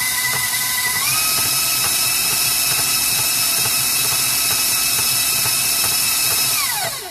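Electric mixer whipping chocolate pie filling, a steady, loud, high motor whine held for several seconds before it winds down at the end, close up with no talking.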